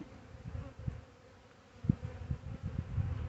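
Honey bees buzz faintly during a spring hive inspection, a low drone rising and falling with a few louder passes as individual bees fly near.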